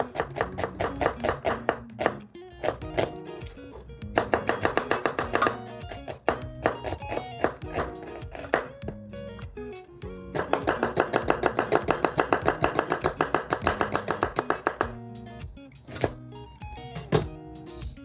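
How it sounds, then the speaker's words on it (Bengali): Onions for a Sylheti curry being chopped on a board, a long run of quick, sharp, evenly spaced knife knocks in several bursts separated by short pauses. The chopping is close and loud, with no talking. "এখন পেঁয়াজ কাটা হচ্ছে।"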